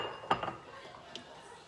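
Brief clinks of a utensil against a Pampered Chef dish as noodles are added and stirred, with a few light taps close by followed by quiet.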